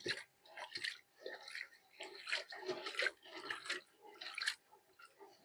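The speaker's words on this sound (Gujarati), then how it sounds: "હવે આને પાણીમાં ધોઈ નાખીએ" Quiet, repeated splashing and sloshing of water as cluster beans are rubbed and rinsed in a bucket, in irregular bursts.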